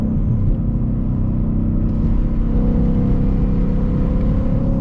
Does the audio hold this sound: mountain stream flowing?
no